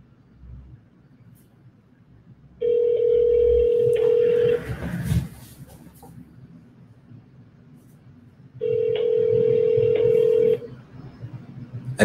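An outgoing telephone cold call to a lead, heard as two long, steady ringback tones separated by a pause, with faint room noise and a brief soft clatter between them.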